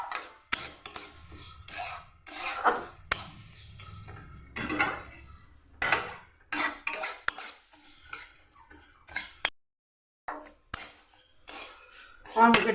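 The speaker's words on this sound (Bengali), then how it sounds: "মুগের ডালটা আমি ভালো করে একটু ভেজে নেব।" Mung dal dry-roasting in a kadai, stirred with a metal utensil: repeated scraping and rattling strokes against the pan in uneven bursts, close and fairly loud, with brief pauses between.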